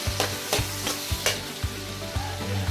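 Vegetables for ginisang gulay with squash are sautéed in a pan, giving a continuous sizzle punctuated by several sharp, regular spatula strikes against the pan, close and with no talk.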